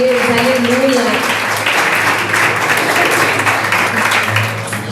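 A church congregation applauds loudly and steadily for the full five seconds, with voices and sustained tones from the service mixed in beneath the clapping.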